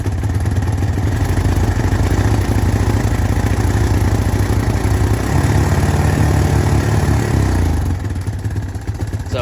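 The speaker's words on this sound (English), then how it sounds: "You can just hear the idle is not smooth" A Honda Recon 250 ATV fitted with a Chinese aftermarket carburetor idles roughly, its engine loud and close with a steady, uneven chugging and clattering rumble throughout, with no voices.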